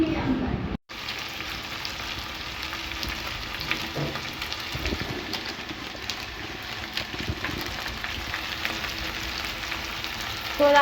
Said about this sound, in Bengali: এখন আমি ক্যাপসিকাম, টমেটো, রসুন, পেঁয়াজ, আদা, কাঁচা লঙ্কা সব একসঙ্গে ভাজছি